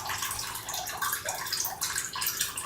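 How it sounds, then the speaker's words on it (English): A tap runs steadily while the water warms up, a loud continuous hiss and splash of flowing water close by that keeps going with small surges and no talking. "Warming up the water here."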